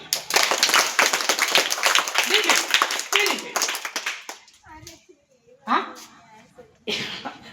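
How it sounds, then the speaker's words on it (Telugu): An audience at a PMC event bursts into dense, lively applause for about three seconds, with a few scattered claps after that while a voice talks nearby. "ఈ అన్నయ్యలకు చెల్లెలకు ఒకసారి అందరం చప్పట్లు కొట్టాలి"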